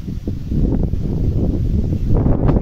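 Wind after Cyclone Remal in the late afternoon under dark clouds once the rain has stopped, a steady low broadband rush with gusty swells that stays close and fairly loud throughout.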